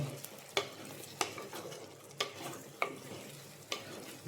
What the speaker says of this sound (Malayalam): അതുകൊണ്ട് നന്നായിട്ടൊന്ന് ഇളക്കുക